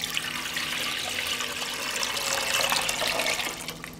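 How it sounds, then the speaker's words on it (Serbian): About a litre of water pouring into a pot for a marinade, a continuous close rushing splash that holds steady for a few seconds. "u šerpu sipam litar vode."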